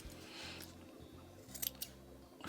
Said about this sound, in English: So I'm squeezing it together and just trimming it.